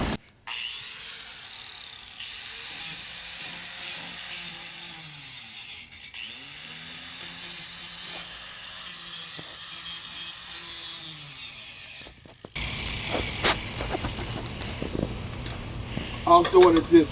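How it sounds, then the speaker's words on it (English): An angle grinder scrubs rust off metal ahead of welding, a steady harsh rasping whine that holds for several seconds before stopping, then rougher clattering handling noise follows. "I just want to clean up the area that I'm going to weld a little bit, get the rust from around there with this grinder."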